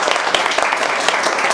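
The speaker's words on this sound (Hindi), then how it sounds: "एक बार इन तीनों के लिए ताली बजाओ आप लोग यार।" An indoor audience claps for three students at a mobile repair training institute, a close and loud burst of many hands with a scattered, steady rhythm throughout.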